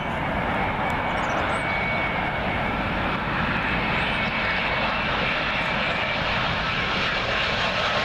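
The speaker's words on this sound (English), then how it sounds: "Up next is another Virgin 787-9 Dreamliner" Virgin Boeing 787-9 Dreamliner arriving to land at Heathrow runway 27L, its engines a loud, steady, broadband roar passing close overhead, constant throughout with no voices.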